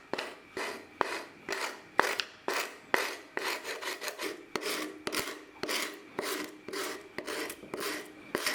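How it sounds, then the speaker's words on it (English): Sandpaper rubs over the edges of a handmade mirror frame in steady back-and-forth rasping strokes, about two per second with small knocks between them, close and clear, with no talk. "And then we smooth the edges with sandpaper."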